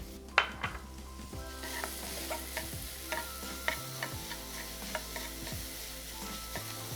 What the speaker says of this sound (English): After sauteing the garlic, I will add finely chopped onion.